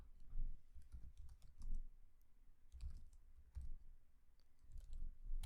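A computer keyboard is typed on while entering a command in Rhino 3D software, soft muffled taps in a steady uneven stream under a low background rumble.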